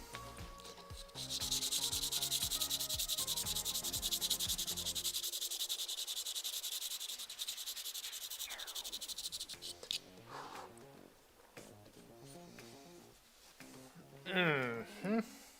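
A pencil is sharpened for a Bargue-style drawing, a close, continuous rasping scrape for several seconds that then breaks into scattered shorter scrapes and handling noises.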